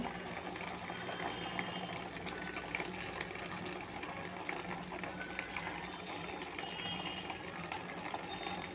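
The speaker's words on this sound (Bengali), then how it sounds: "এরপর ঠান্ডা জল দিয়ে আরও একবার ভালো করে ধুয়ে নেব" Cleaned toys washed in a basin with cold water, a continuous close splashing and running-water wash that keeps steady throughout.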